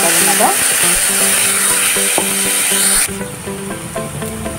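Tempering spices splutter and crackle in hot mustard oil in a pan, a loud dense sizzle with scattered pops that drops to a quieter frying hiss partway through.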